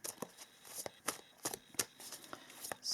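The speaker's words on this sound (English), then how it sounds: "So let us then shuffle a little bit with some tarot cards for you." Tarot cards from an Ethereal Visions Illuminated deck being shuffled by hand, a steady run of crisp, close riffling flicks and slaps with no talking.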